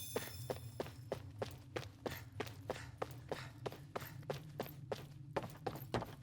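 Rhythmic footsteps echo steadily through an underground passage in the video game Tales of Arise, evenly spaced thuds repeating about twice per second over a low ambient hum, with no voices.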